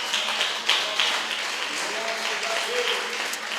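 A church congregation applauding, a steady wash of clapping at moderate volume with a few sharper claps, while a voice talks over it.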